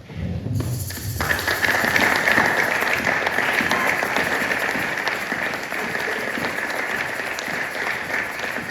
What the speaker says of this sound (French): Applaudissons tous pour la parole de Dieu.